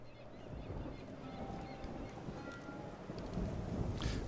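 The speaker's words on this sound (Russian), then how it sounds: "Дождь на улице хлещет" Heavy rain pours steadily in Dishonored 2, a dense, constant wash of water with low rumbling beneath, at a fairly quiet level.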